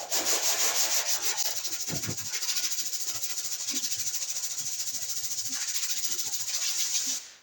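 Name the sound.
hand sanding body filler on car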